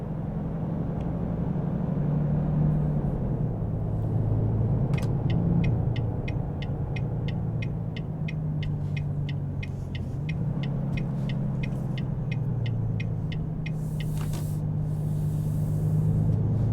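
A heavy truck in American Truck Simulator with its engine brake and retarder engaged, hauling about 23 tons: a steady low drone that shifts pitch as the engine slows, with a regular series of sharp ticking clicks over it and no talk.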